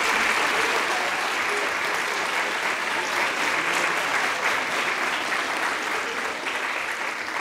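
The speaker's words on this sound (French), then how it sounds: "Vous pouvez les applaudir très fort" An audience at a graduation ceremony applauding loudly and continuously, a dense wash of many hands clapping that fades slightly toward the end.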